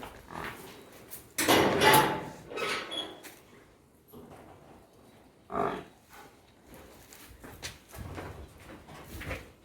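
A Khillar cow and calf tethered in a cattle shed, giving several loud, close moos in separate bursts with quieter shuffling and creaks between calls.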